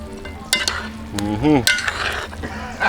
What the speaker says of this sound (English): I'll give it a stir first.